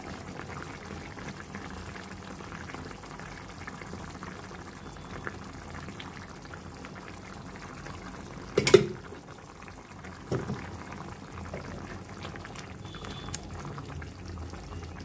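A pot of fish dopiaza curry bubbles at a low boil, giving a quiet, steady simmer with a few brief clinks and knocks partway through.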